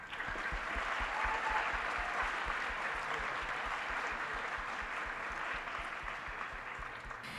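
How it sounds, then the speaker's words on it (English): Audience at a community awards ceremony applauding award recipients, a steady, even wash of many hands clapping that holds throughout and cuts off just before the end. "Please join me in giving our recipients another round of applause."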